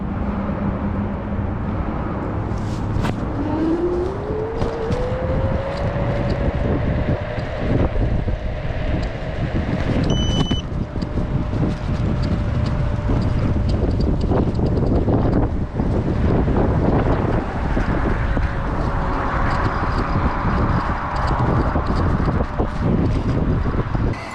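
A NIU KQi Air electric scooter climbs a hill onto a bridge. Its motor whine rises in pitch and then holds steady beneath heavy, constant wind rumble.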